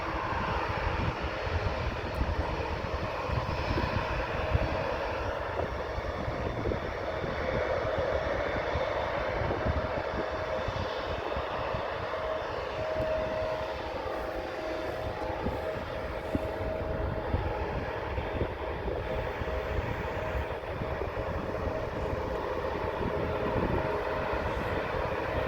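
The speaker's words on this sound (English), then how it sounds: "Let's watch the A330" Airbus A330 airliner taking off from Amsterdam airport: a sustained, fairly distant jet engine rumble with a faint whine, holding a steady level throughout and no voices.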